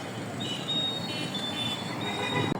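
A metro train rolls past with high, drawn-out wheel squeals over a steady rumble, sustained and fairly close.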